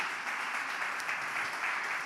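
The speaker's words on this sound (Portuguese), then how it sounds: "Você pode celebrar a Deus com as suas palmas?" Church congregation applauding in praise, a continuous wash of many clapping hands holding steady from start to finish, moderately loud and without pauses.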